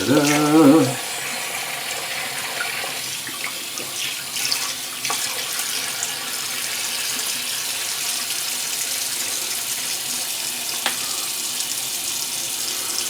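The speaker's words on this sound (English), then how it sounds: "let's get a rinse in" A tap runs steadily into a sink to rinse off after shaving, a continuous close hiss of flowing water following a brief hum at the start, with no talking.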